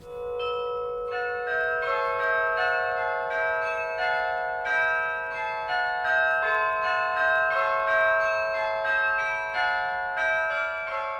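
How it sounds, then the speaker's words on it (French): Large bronze carillon bells, struck by big hammers worked from a keyboard, ring out a sustained, layered peal of overlapping tones that hum and ring on without pause. "c'est un instrument à percussion avec des grands marteaux sur des grandes cloches en bronze et qui sonnent pour toute une population"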